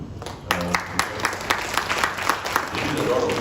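Scattered applause follows for two event organisers at an entrepreneurship gathering, with individual claps standing out in a loose, uneven rhythm against room noise.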